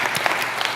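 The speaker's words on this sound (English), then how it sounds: "we'll get a round of applause" A brief burst of applause from a conference audience at a venture capital panel, dense steady clapping from a seated room with nobody talking over it.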